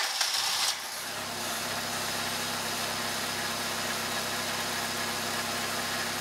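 A car engine cranks briefly and then settles into a steady, even idle during a charging system voltage drop test, a continuous close mechanical hum with no talking.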